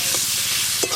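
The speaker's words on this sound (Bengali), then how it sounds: "আমড়াগুলো একটু ভালো করে নেড়ে নিয়েছি" Hog plums (amra) frying in a pan with spices, loud continuous sizzle with two quick stirring scrapes, close and without speech.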